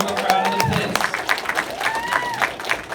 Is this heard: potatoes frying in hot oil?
no